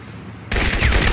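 Sudden burst of gunfire and explosive blasts in the shooter game Crysis, loud and close, cutting in abruptly after a quieter ambient stretch.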